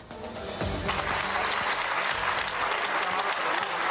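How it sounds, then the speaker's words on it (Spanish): Hospital staff and patients applaud together inside the IFEMA field hospital in Madrid during the coronavirus outbreak. Clapping swells quickly and then holds as a loud, echoing wave of many hands in a large hall, with faint voices mixed in. "Son los aplausos emocionados que han compartido el personal sanitario y los enfermos ingresados en IFEMA."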